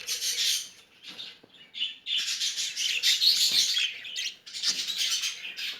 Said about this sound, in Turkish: Evet şuradaki kuşlarımızın güzelliklerine bakın